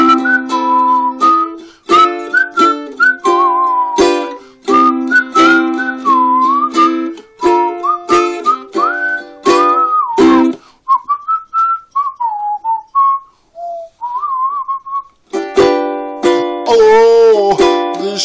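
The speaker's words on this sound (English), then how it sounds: "Just solo, doesn't matter what you whistle" A person whistles a lively melody up close, with quick runs and held notes, breaking into short phrases with pauses between them.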